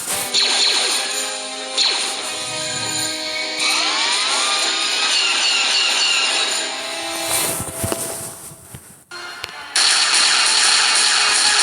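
Laser turret fire in the Star Wars: Knights of the Old Republic II video game, with rapid loud blaster bursts, sweeping zaps and crashing impacts layered densely over a continuous game soundtrack.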